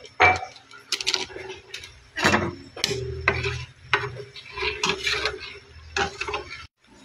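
A utensil scrapes and knocks against a pot of boiling sinigang soup in irregular strokes, with clinks and a soft bubbling sizzle between them.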